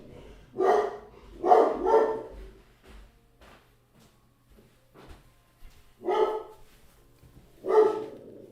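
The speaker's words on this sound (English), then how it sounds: "My dog keeping us company while I'm away." A house dog barks several times indoors, a loud close pair of barks then a pause with faint whimpers before two more single barks.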